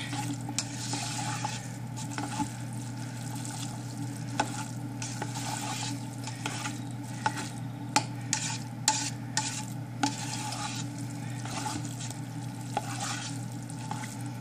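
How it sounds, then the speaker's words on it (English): Chocolate is stirred continuously in a pot over direct heat, with a spoon rubbing and scraping the bottom under a faint sizzle and occasional light clinks against the pot. "just keep stirring it so it doesn't burn on the bottom."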